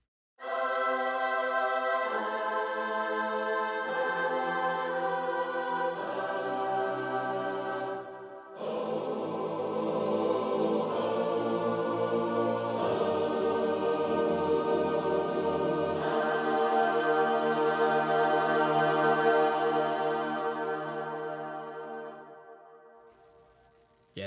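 A lush sampled choir holds sustained chords that shift every few seconds, full and reverberant, before the final chord slowly fades away to silence.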